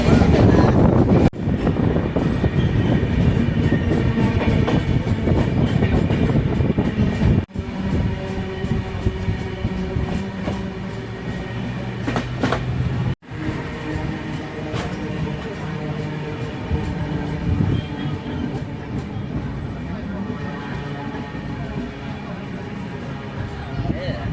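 Mumbai Kurla Express rolling along its route, a steady loud rumble and rattle of the carriages running without a break, with a couple of brief dropouts and a voice talking over the running train.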